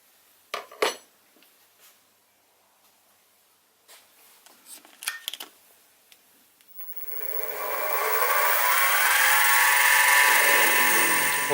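A 5mm drill bit boring into aluminium on a mini lathe: steady, loud whirring cut that starts partway through and holds for several seconds, after a few faint knocks and clinks from setup.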